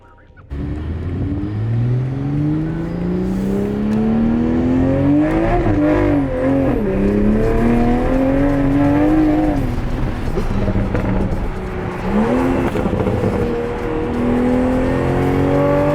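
After a brief quiet start, a 2021 Toyota Supra with a catless downpipe revs loudly up close. The engine climbs and drops through repeated pulls with raspy exhaust crackle.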